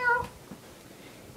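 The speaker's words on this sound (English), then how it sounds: "This is our test cat, Two." A domestic cat lets out a single short meow close by, followed by quiet room noise and faint rustling.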